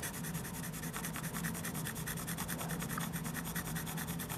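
Colored pencil shading back and forth over paper, a quiet, steady scratchy rubbing in quick repeated strokes, close up and without talk.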